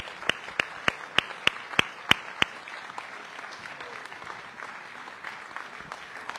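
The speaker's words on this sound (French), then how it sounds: "vous pouvez applaudir les conseillers jeunes citoyens" About eight sharp, evenly spaced claps from a small part of the audience at a mayor's New Year civic ceremony, stopping after a couple of seconds and leaving a quiet, murmuring room.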